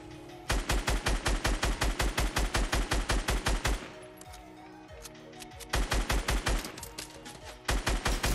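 Automatic gunfire in Fortnite Battle Royale: loud, fast bursts of rapid shots, one long volley, then a short pause and two shorter bursts, with no talking.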